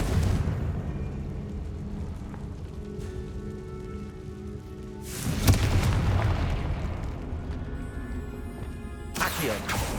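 Confringo blasting spell explosions in Hogwarts Legacy, two sudden crackling bursts midway and near the end over a low rumbling ambient background, moderately loud.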